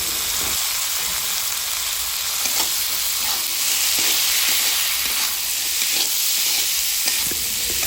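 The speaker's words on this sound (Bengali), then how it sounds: "নেড়ে চেড়ে ছোলাগুলো মশলার সাথে ভালোভাবে মিশিয়ে নিয়ে" Boiled chickpeas stirred into a cooked spice masala in a hot pan give a steady, loud close sizzle and frying hiss with scraping stir strokes, alone without talk.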